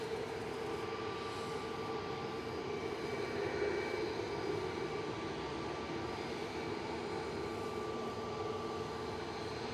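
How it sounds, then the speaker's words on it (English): A TUI Boeing 737 Max 8 departs Manchester Airport for Cape Verde, its engine roar distant and fairly faint but continuous, a broad steady rumble with a faint tonal whine held throughout. "A Max 8 heading over to Cape Verde with Flight 316 for TUI"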